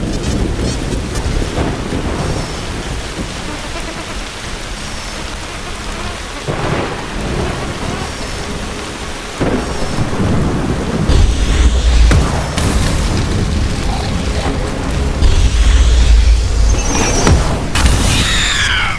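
A thunderstorm in the video game The Riftbreaker, with steady heavy rain and repeated deep thunder booms that grow louder and closer toward the end, with no speech.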